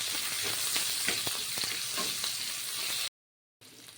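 Onions and cumin seeds fry in oil for a Bengali rohu fish kalia, a dense, steady sizzle with scattered crackles and pops close up, cut off by a brief silence before the sizzling resumes.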